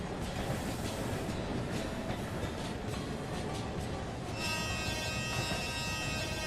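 A train rolls along the rails with a loud, constant rumble and clatter of wheels, then, as the brakes are applied, a high, sustained metallic squeal rises over the running noise.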